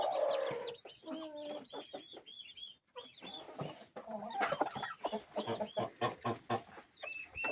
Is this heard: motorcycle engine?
no